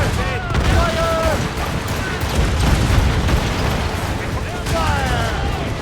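Naval battle in Assassin's Creed Rogue: heavy booming ship cannon fire and crackling blasts under shouting crew voices, with continuous rumbling combat noise throughout.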